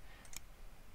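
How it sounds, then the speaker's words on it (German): A computer mouse gives two quick, faint clicks in rapid succession, light and close, over a quiet background hiss. "ich klicke jetzt ein bisschen wild rum"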